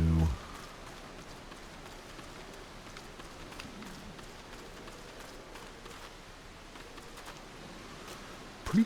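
Soft, steady rain from the weather effect in Final Fantasy XIV, a continuous hiss of falling drops and pattering on surfaces at an even level throughout, with faint footsteps mixed in.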